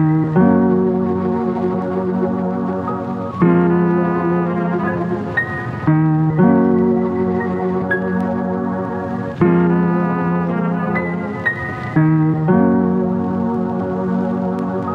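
Chopped boom bap sample built from piano, clarinet and saxophone, playing as a slowed, looping phrase of sustained harmonic tones with abrupt cuts between segments every few seconds, steady and full throughout with no voices.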